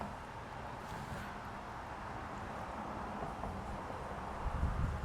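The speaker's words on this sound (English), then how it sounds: "Very windy today." Wind blows steadily outdoors through a Japanese maple garden in autumn, a broad continuous rush with gusty buffeting against the microphone that swells slightly louder toward the end.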